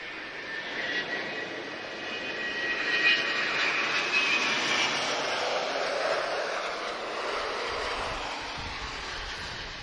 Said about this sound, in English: this A330 just arrived. It's the first production A330 Neo.